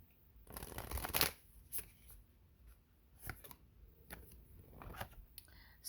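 Oracle moon cards being shuffled by hand, a few quick riffling and flicking bursts close up with short pauses between, quiet, with no talk.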